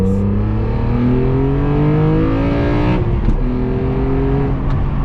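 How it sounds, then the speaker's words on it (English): A BMW M3 E46's inline-six revs hard from inside the cabin, its smooth rising howl climbing through the gears with a brief dip at a shift before pulling again, loud and steady with no talk. "There is such a nice sound with this inline 6."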